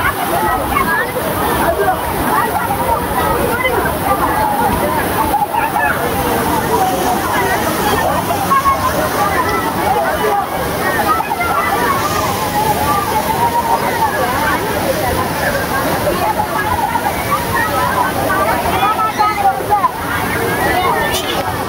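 Kutralam waterfall in Tenkasi rushing loudly and continuously, a dense, unbroken roar of falling water close by, with voices of people nearby mixed in.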